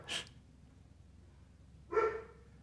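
A dog gives two short barks a couple of seconds apart, close by and moderately loud, with quiet room tone between them.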